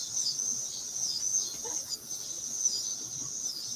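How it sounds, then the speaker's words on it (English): Cicadas drone outdoors in a steady, high-pitched buzzing chorus that holds loud and unbroken throughout, with faint low background sounds beneath it. "And listen to the cicadas."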